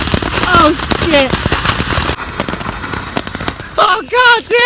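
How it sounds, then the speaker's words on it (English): Fireworks burst and crackle in rapid, rough volleys, loud and close, while excited voices shout over them and a high yell rises at the end. "it's time for firework number 2"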